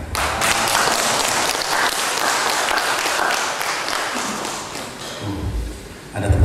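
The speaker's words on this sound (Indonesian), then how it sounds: "Ada tepuk tangan katanya." Applause from a seated audience at the opening of a teachers' focus group discussion, dense and sustained clapping at steady loudness that thins slightly near the end, with a few low thumps.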